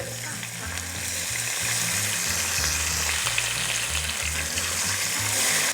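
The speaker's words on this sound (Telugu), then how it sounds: "ఇప్పుడు ఉల్లిపాయలు అవి చక్కగా వేగిపోయినాయి చూడండి" Thinly sliced onions fry in a pan with a dense, steady sizzle that stays loud and close throughout, over a low background hum, with no voices.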